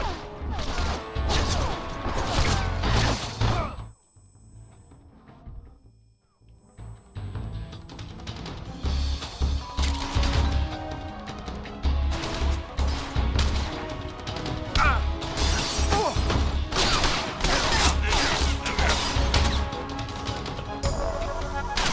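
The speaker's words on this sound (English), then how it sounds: "Just gonna flashbang everybody in the area, including ourselves." Flashbang grenades go off in Metal Gear Solid Delta: Snake Eater, loud crashing blasts amid dense game noise, with a sudden near-silent stretch after one bang before the chaos resumes.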